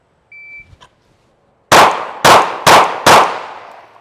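Four sharp pistol shots from a Baby Glock crack out in quick, evenly spaced succession at close range, each ringing briefly, after a short beep and some faint handling noise.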